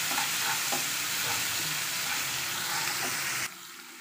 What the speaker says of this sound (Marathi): आता आपण हे हिरव्या मिरचीचं चटणी करून घेतली होती ती आता आपण भाजून घ्यायची आहे.